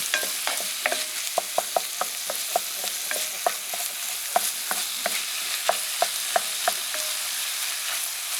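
Picnic beans simmering in a pot on a basecamp stove, a steady low bubbling hiss broken by frequent sharp clinks of a spoon stirring against the pot, close and fairly quiet with no voices.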